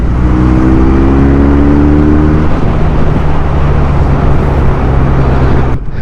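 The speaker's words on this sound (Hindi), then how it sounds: "चढ़ रहा हूँ एकदम ऐसे भागी है ना ये बाइक" A 2023 QJ Motor SRK 400 two-cylinder naked motorcycle accelerates hard, its engine note climbing in pitch over the first seconds under loud wind rush, then holding a steady roar.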